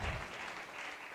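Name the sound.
church congregation applause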